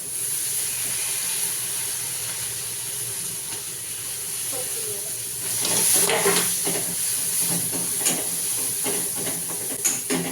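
Oil crackles and sizzles steadily as dried red chillies and curry leaves fry, growing louder with sharp pops and stirring partway through.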